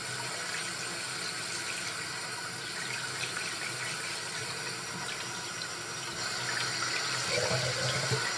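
Lukewarm tap water runs steadily into a sink for rinsing makeup brushes, a continuous close-up gush with no speech over it.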